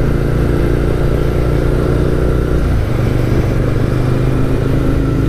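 Engine of a 2017 SSR Motorsports Buccaneer motorcycle idling and running steadily, with a slight change in pitch midway as it shifts into first gear, loud and close.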